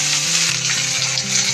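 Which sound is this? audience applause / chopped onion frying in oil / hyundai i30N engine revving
chopped onion frying in oil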